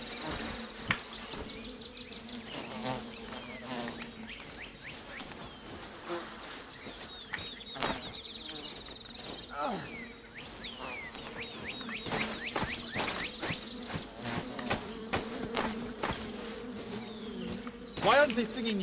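Stinging insects buzz in The Vale: Shadow of the Crown, a steady drone with chirpy flutters and occasional bird-like calls throughout, while a person talks over the sound.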